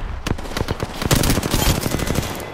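Rapid automatic gunfire in Apex Legends rattles in dense, close bursts, sharp shots stacking into a continuous volley with a short pause early on before firing picks up again.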